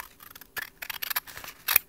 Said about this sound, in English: I am using these nice sharp sewing scissors